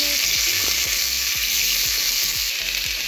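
Capsicum and onion fry in hot oil with a loud, continuous sizzle close by. Soft stirring scrapes recur at a steady rhythm underneath.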